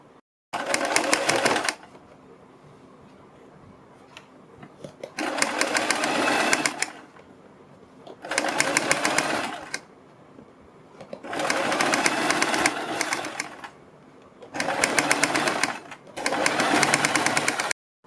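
A sewing machine stitches down a fabric strip in six loud, rapid bursts separated by short quiet pauses.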